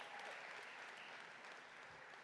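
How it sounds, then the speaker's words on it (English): Faint, steady applause from a large crowd at a winter commencement ceremony, dense and even for the whole stretch with no speech over it. "Let's give them a well-deserved round of applause."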